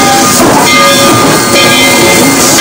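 A steam locomotive at the Fort Erie Railroad Museum hisses and rumbles loudly and steadily, with a tonal whistle-like line running throughout and no talking.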